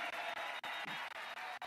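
Audience applause from a crowd, a steady wash of clapping kept up without a break for a couple of seconds at a fairly faint level.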